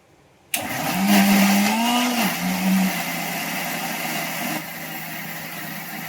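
A mixer grinder blends masala with onion and garlic for a spicy crab curry, running loud and steady with a whining motor drone that starts abruptly and holds throughout, easing slightly near the end.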